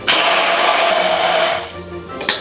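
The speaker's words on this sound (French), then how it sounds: "machine miracle, plonge et on mélange" Immersion blender running close and steady, a loud whirring drone mixing seasoning with salt and ground pepper during prep for shrimp cooked on a plancha, winding down near the end, no voices.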